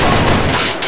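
Loud, close gunfire in a shooter video game on an airport map, a dense burst of shots filling the whole second with no talking over it.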